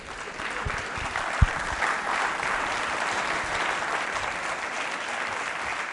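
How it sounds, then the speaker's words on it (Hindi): Steady applause from a school audience at a quiz show on World Diabetes Day, a dense even patter of many hands clapping throughout with a sharp single clap standing out near the start. "जोरदार जोरदार बजाइए तालियां"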